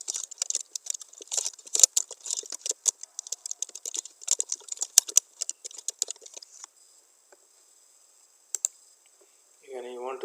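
Fast, close typing on a computer keyboard with a quick, uneven patter of key clicks that stops after several seconds, followed by a faint brief tone and a short burst of voice at the end.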